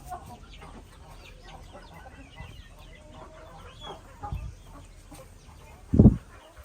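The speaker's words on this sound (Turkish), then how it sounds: "burada şu an dışarıda 1, 2, 3, 4, 5 tane tavuk var" Brahma hens and roosters out of the coop give scattered quiet clucks, then one loud close squawk near the end, with low background rustling.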